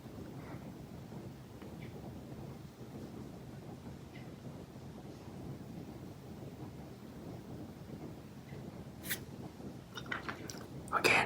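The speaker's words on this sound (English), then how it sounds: "See if you can listen to the rain." Real rain falls outside in a steady, soft hiss with a low muffled rumble underneath, fairly faint, and a few sharp crinkly sounds near the end.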